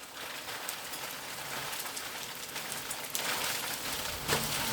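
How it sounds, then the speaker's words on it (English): Hail falls in a garden, a dense, steady patter of icy pellets hitting and bouncing off surfaces, building slightly louder toward the end, with no voices. "Bounce, oh, the hail bouncing"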